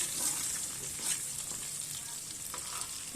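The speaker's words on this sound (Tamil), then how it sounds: "கட் பண்ணி வச்சுருந்த அந்த 4 பல்லு பூண்டு அந்த பூண்டையும் போட்டு நல்லா வந்து வதக்கிக்குங்க." Grated garlic frying in oil for vegetable fried rice, giving a steady, fairly faint crackling sizzle with a few soft stirring scrapes and no talking.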